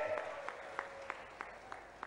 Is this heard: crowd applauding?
yes